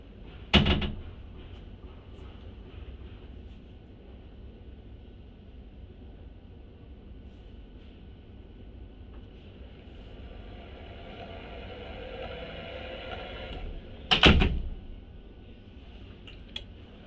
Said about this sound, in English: I'm gonna push the door manually forward, you'll see how the operator is gonna pull the door back and then release it